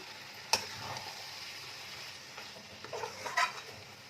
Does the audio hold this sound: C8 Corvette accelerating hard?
no